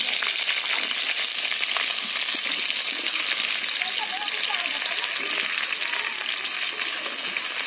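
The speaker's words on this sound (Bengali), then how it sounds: "কাঁচা লঙ্কাটা ভেজে নিচ্ছি।" Green chilies fry in hot oil in a pan while okra with mustard seed is prepared, producing a loud, continuous hissing sizzle that stays even for the whole stretch, with no voice.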